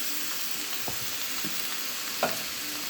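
Undrained fire-roasted diced tomatoes hit a hot pan for taco pasta, giving a continuous hissing sizzle with a few soft stirring knocks and one sharper clink near the end.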